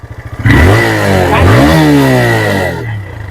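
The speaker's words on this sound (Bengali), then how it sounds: "বাইক নিয়ে ওই পারে যাওয়া যাবে বাইক নিয়ে যাওয়া যাচ্ছে" A motorcycle rides through flood water from a breached Ganges embankment, its engine droning loud and close with shifting pitch and a rough splashing wash, steady for most of the stretch before easing off.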